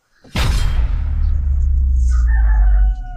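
A rooster crows loudly and close in one sustained call that starts abruptly, set in a household drama scene, with no voices over it.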